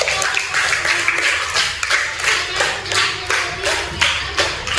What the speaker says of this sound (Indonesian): beri tepuk tangan untuk anak